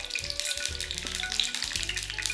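Urad dal sizzles and crackles in hot oil in a pan, the tempering for a brinjal and chana dal curry, giving a close, steady frying hiss with a low, uneven rumble beneath.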